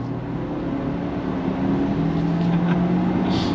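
A 2024 Ford Ranger Lariat pickup with a 10-speed automatic accelerating on throttle, heard from inside as a steady, loud low engine drone and road rumble that rises slightly in pitch, with no clear break for a gear change.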